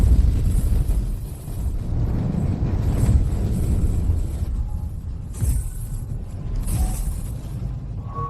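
A ghostly blast sound effect from a supernatural fantasy drama, a dense, rumbling roar that swells and churns steadily for several seconds, with brief brighter hissing bursts layered over the low boom.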